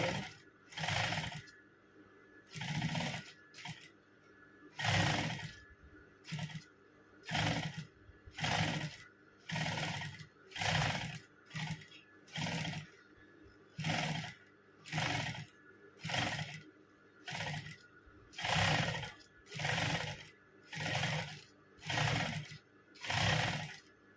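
A sewing machine stitches a narrow folded hem on a small strip of fabric, running in short repeated bursts with brief pauses between them, loud and close.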